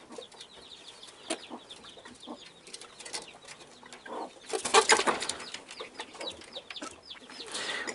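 Chickens and young chicks cluck and cheep near at hand while being fed watermelon, soft irregular calls with a sudden flurry of louder squawking and wing flapping midway.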